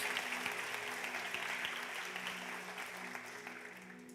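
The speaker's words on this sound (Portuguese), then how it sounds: "Aplauda o Senhor" A church congregation at a Sunday communion service claps in praise, a soft, steady wash of many hands fading slightly over four seconds, with faint background music or voices beneath.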